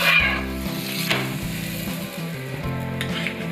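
Methi paratha frying with butter on a pan: a close, steady sizzle with a brief scraping burst, under a repeating melodic background music track, with no talking.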